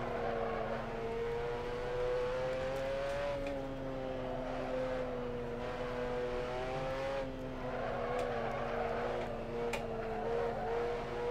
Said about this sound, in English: Hear those tires squealing?